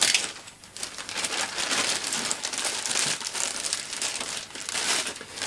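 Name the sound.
amplifier being lifted out of its foam packaging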